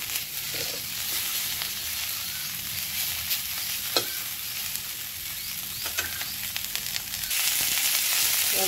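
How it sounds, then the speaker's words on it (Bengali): Prawn heads fry in oil with a loud, continuous close sizzle, broken by sharp crackles and a few scraping stirs, and the hiss grows stronger near the end, with no one speaking. "চিংড়ি মাছের মাথাগুলো দেখো ভাজা হয়ে গেছে, দেখো এক একটি করে আলাদা আলাদা হয়ে গেছে"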